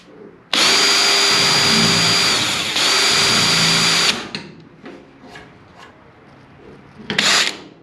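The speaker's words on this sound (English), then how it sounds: "So I'm gonna go ahead and just carefully now shave those down." A rivet shaver trims high rivets on the fuel tank skin of a Van's RV-7A kit airplane, two sustained high whining bursts of a couple of seconds each, loud and close, then quieter scraping taps and a brief final burst.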